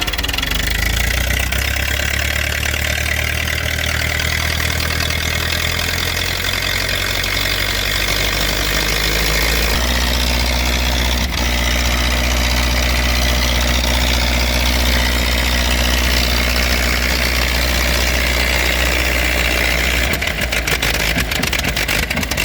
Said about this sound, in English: See if I can crank it and let y'all hear it.